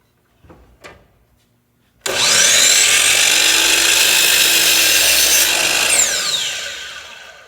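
A power saw crosscuts a wooden board on a table, spinning up loud and steady for about four seconds before the blade winds down; faint handling noises come first.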